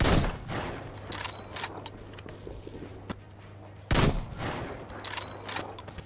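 Bursts of gunfire from the shooter game Metro Exodus, with sharp loud shots near the start and a heavy blast around four seconds, over a steady low game hum and scattered smaller impacts.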